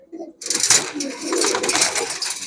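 High-flyer Giribaz pigeons coo and flutter close by at a pigeon market, a busy burst of bird sounds following a brief quiet moment.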